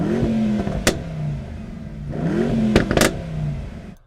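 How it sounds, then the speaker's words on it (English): A Mercedes-AMG E63 engine revs hard twice, each sharp blip climbing and falling back to a burbling idle. It sounds loud and close, with no voices. "Let's see what the Mercedes is like."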